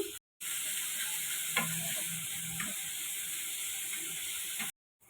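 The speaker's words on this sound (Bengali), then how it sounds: "বিনস কুচি, পেঁয়াজ কুচি, টমেটো কুচি, কাঁচা লঙ্কা কুচি, এগুলো সব আমি হালকা রোস্ট করে নেব।" Chopped beans, onion, tomato and green chili roast lightly in a pan with salt, giving a steady sizzle with a few soft stirring scrapes; no one speaks.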